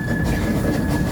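A heritage railway train at St. Nicholas Abbey rolls along the track with a steady rumble and a faint high whine, close and continuous, with no voices, in a short burst.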